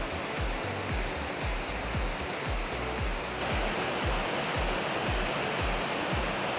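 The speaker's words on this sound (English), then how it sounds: "here is a good view to the waterfalls" Waterfalls in Grey County, Canada roar as a loud, steady rush of falling water, with low rhythmic thuds underneath throughout.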